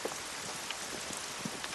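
Steady rain falls outside in a green valley, a soft, continuous patter of drops on surfaces with occasional slightly louder splashes, no voices.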